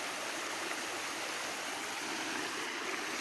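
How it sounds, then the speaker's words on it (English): Small waterfall fed by rain runoff in a park, a steady bright rushing splash close by with no pauses. "There's a nice little waterfall"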